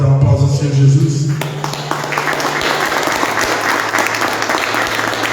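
A church congregation breaks into hearty applause after a preacher's call to applaud Jesus, with dense clapping rising over a fading voice and carrying on steadily to the end.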